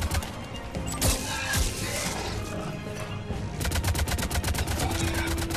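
Gunfire from the video game Mass Effect 3, with bursts of rapid automatic shots that turn into a dense, steady rattle in the second half, mixed with game ambience and some impacts.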